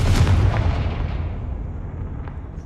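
Confringo blasting spell going off in Hogwarts Legacy, a loud close explosive boom with a deep rumbling burst that decays into a fading tail, with a smaller pop later.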